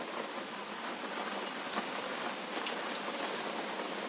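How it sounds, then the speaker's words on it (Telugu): Rain falls steadily in a soft, even hiss with faint scattered drop patters, moderately quiet and with no talking. "ఇప్పుడు అప్పుడే వాన పడుతుంది"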